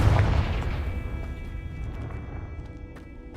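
The Confringo fire spell going off in the video game Hogwarts Legacy: a deep, booming burst at the start that fades into a long, rumbling tail.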